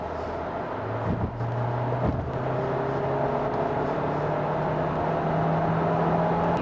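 A 2021 Kia Sorento 1.6 T-GDI hybrid accelerates, heard from inside as a steady engine drone with tones that slowly rise in pitch. Road noise runs underneath at moderate volume, with no talking.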